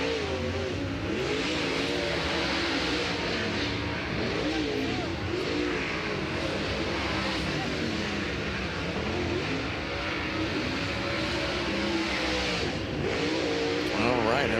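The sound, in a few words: sprint race cars speeding up on Florence Speedway track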